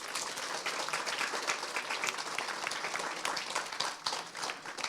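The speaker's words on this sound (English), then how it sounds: "Can we give them a round of applause?" Guests at an Anne Frank tree planting ceremony give a round of applause, a fairly quiet, steady patter of many hands clapping for several seconds, heard from some distance.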